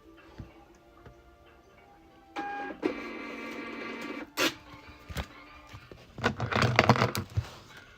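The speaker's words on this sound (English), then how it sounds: "I'm printing you a new label" A label printer feeds out a shipping label with a mechanical whir and clatter, close by, in a few bursts with sharp ticks and a louder run near the end, no voices.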